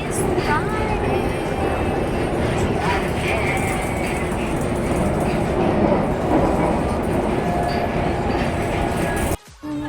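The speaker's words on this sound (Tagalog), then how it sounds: "Hindi puno ang train." Interior of a UK passenger train in motion, a loud, steady rumble with rattling and rhythmic clatter from the carriage, ending in a sudden cut.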